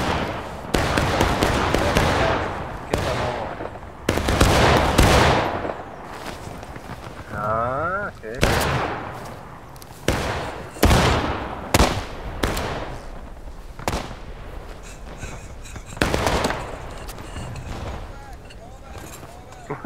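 A musket volley in the War of Rights video game, a Civil War skirmish, breaks out as repeated loud, ragged bursts of gunfire over about twenty seconds, with players talking between the shots.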